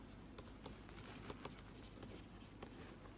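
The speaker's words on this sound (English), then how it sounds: "I am just writing these to demonstrate you." A pen scratches across paper in short strokes and taps, close and quiet, writing out trigonometry labels with an irregular rhythm of marks, no one speaking.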